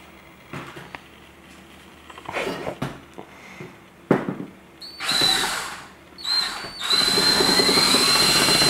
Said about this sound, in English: when the towel spins, it'll polish the bars.